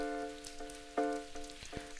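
Rain patters softly and steadily as ambient background, with scattered brief drops tapping over a sustained tonal hum, heard alone without voices.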